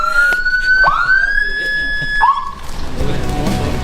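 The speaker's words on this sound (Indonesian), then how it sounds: "Ambulans motor, jadi itu ada versi baru." A motorcycle ambulance siren sweeps up and holds a loud electronic wail, drops and rises again, then cuts off, leaving background traffic noise.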